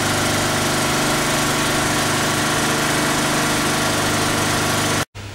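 A small Honda generator engine runs steadily under load, a close, constant mid-pitched hum with buzzing harmonics that cuts off abruptly near the end.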